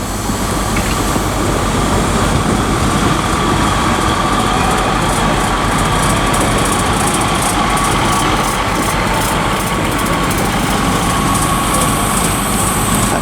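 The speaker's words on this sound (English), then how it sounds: "That's the 1545 East Midlands Train service to Nottingham from Skegness." East Midlands Trains Class 156 diesel unit at Grantham station, a steady loud engine drone with rail rumble running throughout, no pauses, close by.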